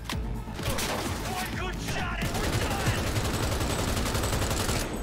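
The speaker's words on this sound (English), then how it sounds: "It's more fun to have all out gunfights." Loud gunfire fills a gunfight in the video game Cyberpunk 2077, dense rapid bursts and automatic fire crackling almost without break from start to finish.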